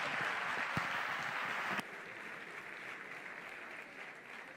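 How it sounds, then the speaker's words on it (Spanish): Warm audience applause for an award winner at a sports gala, fairly loud at first then dropping abruptly to a softer, thinner clapping that fades out. "fuerte aplauso para él"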